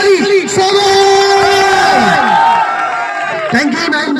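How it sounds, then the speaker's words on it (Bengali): A crowd at a Bangladesh and Pakistan cricket tournament event cheers and whoops loudly and close by, with shouting voices and whistles overlapping throughout and a fresh burst near the end. "এমডি নাইম আপনার জন্য জোরে হাততালি সবাই"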